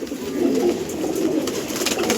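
Pigeons, a female and a male, coo continuously up close, soft rolling throaty calls overlapping without pause.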